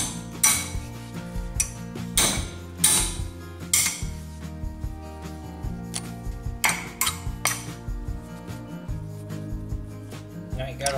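Metal tools clink and ratchet as 6 mm Allen bolts are removed from the front wheel hub of a 2002 Nissan Xterra, with sharp irregular taps and scraping bursts mixed with background music.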